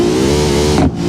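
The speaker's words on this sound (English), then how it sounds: "That's a really nice acceleration sound. Sounds like a very modern sports car." A Hiroshi Sunburst sports car accelerates in the BeamNG.Drive driving game. The engine gives a loud, steady, close rising drone that drops off sharply near the end of the brief burst.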